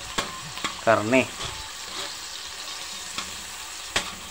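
Chayote shoots and papaya being sautéed with canned sardines in hot oil in a pan, a soft sizzle with scraping stir clicks, broken by a brief spoken word.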